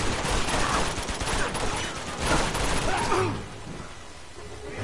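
Dense, rapid gunfire crackles for about three seconds in the action video game Uncharted 2: Among Thieves, then drops away to a quieter background.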